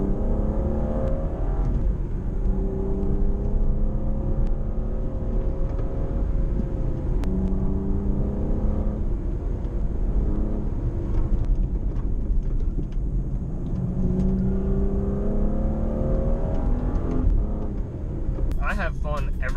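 A BMW 435i driven on a back road, its engine droning steadily and changing pitch as it revs and settles, with continuous road and wind noise and a person talking over it throughout.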